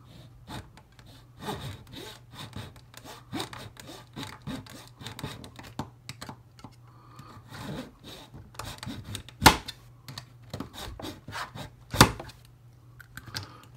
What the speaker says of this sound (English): So get the trusty X-Acto razor saw here.